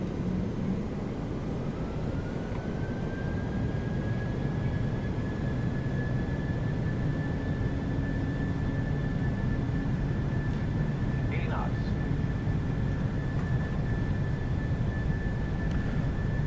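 A Boeing 737-900 jet in a flight simulator rolling down the runway on its takeoff run, a steady loud engine roar with a rising whine that settles into a constant tone, continuous throughout.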